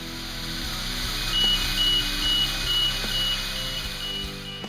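A steady series of evenly spaced electronic beeps from an aerial lift's tilt alarm sounds over a low machine hum, repeating about twice a second at moderate volume.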